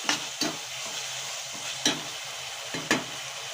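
Tomatoes sautéing in hot oil for kovakkai kara kulambu, a Tamil bitter gourd curry: a steady close sizzle and crackle, broken by a few sharp scraping stirs of a spoon in the pan.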